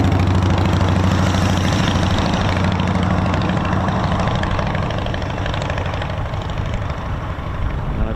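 Avro Lancaster bomber's piston engines running at the Battle of Britain Memorial Flight at RAF Coningsby, a loud, steady, low droning roar that holds throughout with no voices.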